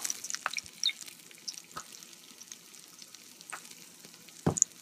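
Green chillies, dried red chillies and nuts frying in oil for coconut rice, with a quiet crackle and scattered pops and spatters over a faint hiss.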